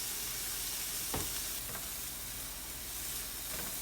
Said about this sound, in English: So now we're going to let those veggies sweat and saute a little bit before adding the rice